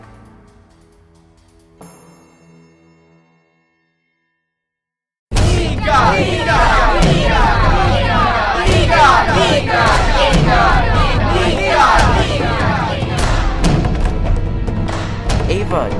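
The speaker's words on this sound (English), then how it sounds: "they hear the angry mob inside the arena" An angry mob shouts inside the Hippodrome arena, a loud dense roar of many voices that bursts in after a near-silent opening and keeps going, with scattered thuds under the din.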